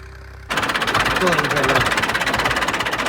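A tractor engine starts up and runs loudly nearby while working soil in a field, with a steady rhythmic chugging throb, while a voice speaks faintly underneath.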